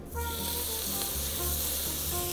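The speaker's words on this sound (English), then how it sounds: "wait for the sizzle, here it comes" Steak laid into hot oil and beef fat in a pan gives a loud, steady, close sizzle that starts abruptly and holds as a dense crackling hiss without any talking.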